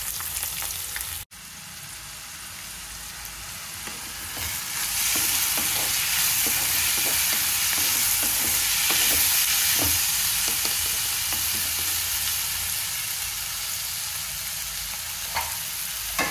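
Onion and drumstick pieces fry in a hot spiced tempering, a continuous sizzle broken by repeated scraping and clinking stirs, growing fuller after the first few seconds.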